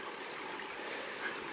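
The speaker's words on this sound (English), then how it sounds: "Zoom in on the waterfall." Waterfall in Kaeng Krachan, a steady rushing wash of falling water heard from a distance, even and continuous with no voices.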